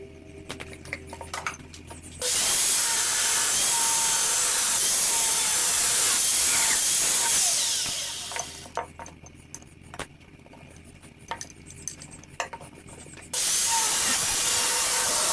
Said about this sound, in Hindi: तो इसको मैं ग्राइंडर की मदद से सबसे पहले तो भाई कट कर लेता हूँ